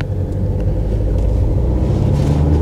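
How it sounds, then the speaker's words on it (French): A 2015 Renault Espace V speeding up from about 30 km/h: a steady, loud low engine rumble and road drone heard from inside the cabin, gently rising without talk. "Il va accélérer un petit peu, on va voir si ça fait du bruit ou si ça avance."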